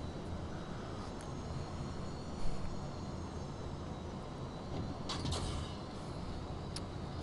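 Dropship touching down on a planet in the game Warshift: a steady low engine rumble holds throughout, with a few brief hissing bursts near the end, moderately loud and with no voices.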